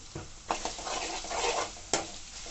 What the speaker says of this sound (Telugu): అల్లం వెల్లుల్లి పేస్ట్ వేగిందండి పచ్చివాసన పోయేంతవరకు వేపుకొని కొద్దిగా పసుపు వేసుకోవాలి